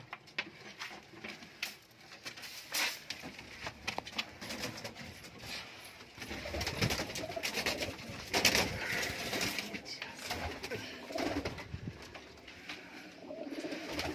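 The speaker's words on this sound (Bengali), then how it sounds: "কিছু গিরিবাজ পায়রা তোমাদের দেখাবো" Giribaz pigeons coo softly amid a dense, noisy background of rustling and fluttering in a loft, the calls low and repeated throughout.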